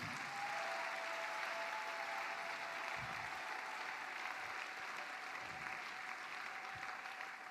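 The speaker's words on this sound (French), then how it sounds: "applaudis pour le Seigneur" A congregation clapping for the Lord during a Mass prayer service, a continuous even wash of applause at moderate distance with a faint steady tone running beneath it.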